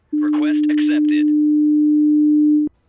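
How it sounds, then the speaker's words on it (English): A steady, pure 300 Hz sine tone playing in a digital audio workstation, starting just after the beginning and holding constant and loud for about two and a half seconds before cutting off abruptly. "We hear a 300 Hz sine tone in both cases."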